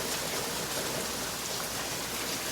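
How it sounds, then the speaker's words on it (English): Heavy rain pouring down during a thunderstorm, a dense, steady hiss of water falling on surfaces, loud and unbroken throughout. "I hate fucking thunderstorms, but man, look at all the rain."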